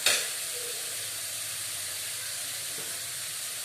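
Poori curry frying in a pan, a loud steady sizzle and hiss close up that opens with a brief burst, then holds evenly throughout with no voices.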